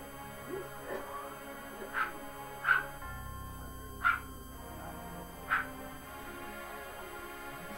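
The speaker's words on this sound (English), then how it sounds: "Sorry if you can hear my dog in the background." A dog barks and whimpers in the background, giving several short, sharp yelps spaced a second or so apart over a quiet room.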